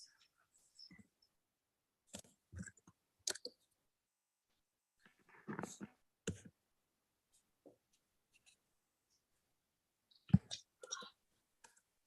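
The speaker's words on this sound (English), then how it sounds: "I'm just typing" Soft, sparse keyboard clicks come from someone typing on a computer during an online committee meeting: short scattered bursts of keystrokes separated by quiet gaps, faint and close.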